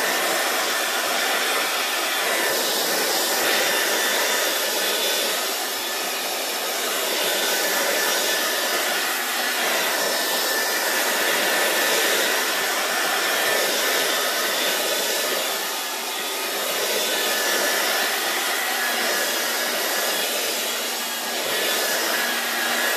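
Hair dryer blowing on a mixed media art journal page, a loud steady whirring rush that holds for over twenty seconds with slight swells and no speech.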